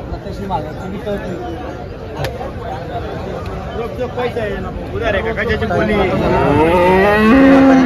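Several Holstein Friesian cows moo loudly over a busy crowd murmur at a cattle market in Chalisgaon, India, one long low moo swelling near the end.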